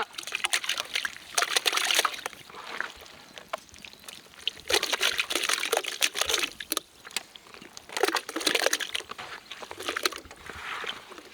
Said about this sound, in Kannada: ಬೋಟಿನ ಚೆನ್ನಾಗಿ ನೀರಲ್ಲಿ ಬೇಯಿಸ್ಕೊಳ್ಳೋಣ